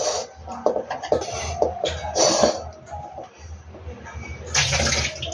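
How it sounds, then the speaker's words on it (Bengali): Brine drained from salted vegetables (kochi kumro leaves for bhapa) splashes and trickles into a sink in several bursts, close and fairly loud, with clatter between pours. "যে জলটা বেরোলো এই জলটা ফেলে দিলাম।"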